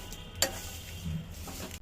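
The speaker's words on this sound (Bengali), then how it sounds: "ভাজা হয়ে যাচ্ছে।" Jackfruit seeds fry in a pan with a faint, quiet sizzle. A sharp click or stir lands near the start, and softer crackles follow.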